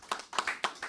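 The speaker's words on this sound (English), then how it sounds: "Let's give them a round of applause." A few sharp hand claps break out at a contract signing ceremony for design consultants, a brief, sparse patter of several claps close by.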